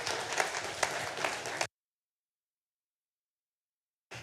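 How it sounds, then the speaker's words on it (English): Audience applauding a community programme at an evening event, a dense burst of clapping that stops abruptly, then resumes faintly after a pause. "a round of applause, please, for BBIP and the program and everything else"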